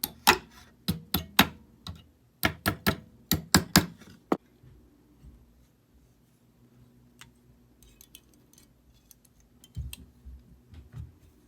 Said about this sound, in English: I bend them, and also I will help myself with a hammer right here.